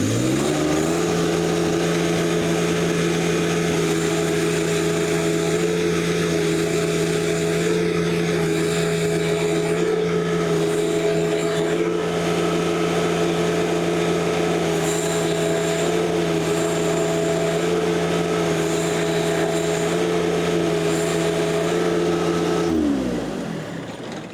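A John Deere 1025r tractor engine held at high throttle around 2,500–2,600 rpm after an adjustment, a loud, close, steady drone that stays level for a long stretch before winding down at the end.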